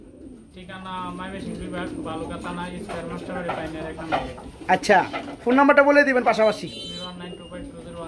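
Pigeons coo in a loft where running pigeons are kept for sale, a steady soft cooing bed running under continuous nearby conversation between men.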